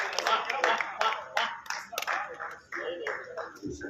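Audience clapping at a Hindi kavi sammelan poetry gathering, bursts of applause that come and go while a host speaks over them.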